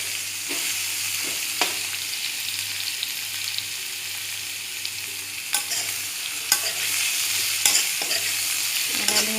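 Potatoes and pointed gourd fry in a pan with a steady, close sizzle, broken by occasional sharper scrapes of stirring and no talking.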